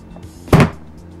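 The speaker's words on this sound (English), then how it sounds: "That's the sound of plastic against plastic" A hard plastic lid of an HPRC 2550W carry-on case snaps shut once, a single loud clack of plastic striking plastic from a lid that does not line up precisely with its base, heard close against a quiet background.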